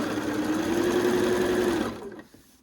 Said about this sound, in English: So continue sewing around, just like this, making sure the edge is